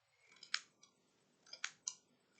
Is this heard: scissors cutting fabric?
yes